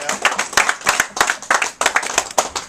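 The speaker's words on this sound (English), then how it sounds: "Give him a big round of applause" Clapping from a small crowd at a boxing press conference in a New York club, sharp uneven hand claps that rise and fall in bursts, fairly close and lively, with no voices over it.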